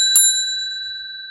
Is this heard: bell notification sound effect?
yes